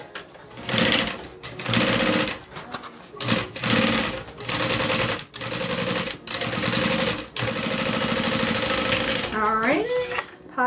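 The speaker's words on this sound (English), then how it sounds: "And then I'm just going to do a top stitch." Close, loud sewing machine top stitching a pocket on a backpack, running in several fast rattling bursts with brief stops between them.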